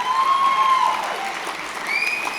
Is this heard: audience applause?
yes